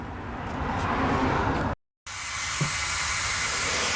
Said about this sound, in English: Okay, I got my little sprayer adjusted.